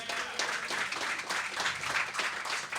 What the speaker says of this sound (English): Can we have a round of applause for Marty and Preston?